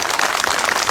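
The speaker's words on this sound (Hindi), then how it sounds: "तालियों की गड़गड़ाहट में 1 मिनट बजा के देखिए" A crowd of protesters, women and children among them, claps at a relay hunger strike over the UP TGT PGT exam, giving a dense, steady roar of applause with no pauses.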